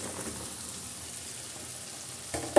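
Cut pointed gourd fries in a pan with a low, soft sizzle, ending in a sudden louder clatter.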